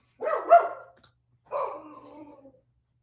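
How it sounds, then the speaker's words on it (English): A puppy gives two short, yappy barks with a growly edge, about a second apart, clear and fairly close against a quiet room. "If anybody can hear my puppy in the background, that is Boss."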